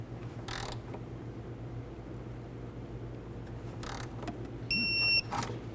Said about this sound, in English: Go ahead and torque these to 21 foot-pounds.